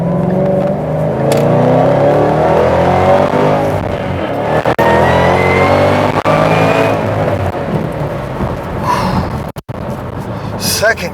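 A Shelby GT500 engine revs hard and pulls through the gears, shifting into second at about 6,500 RPM near 90 mph. Loud, continuous, rising engine roar with heavy road and wind noise, and a brief dip near the end.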